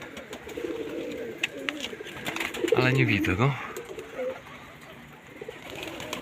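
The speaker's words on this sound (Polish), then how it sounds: "Gdzie te gołębiaki? Tutaj są widać." Pigeons at an evening feeding give low, rolling coos that swell for about a second midway, set against steady outdoor background noise while someone talks nearby.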